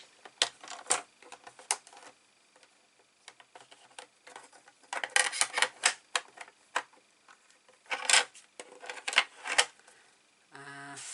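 Paper being trimmed by a quarter inch for an 8 x 10 mini album, heard as irregular crisp clicks and slicing scrapes in short bursts, fairly close and clear with quiet gaps between.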